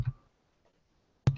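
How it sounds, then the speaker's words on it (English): Two sharp, isolated keyboard key clicks, one at the start and one at the end, separated by near silence. "I'm just typing here."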